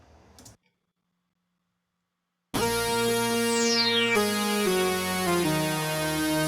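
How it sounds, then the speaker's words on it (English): Lead synth run through a Doubler plugin with two voices dropped an octave, a thick stacked chordal tone entering after a short silence and sustaining loudly with note changes and a falling sweep. "So what the doubler is doing is creating another 4 voices,"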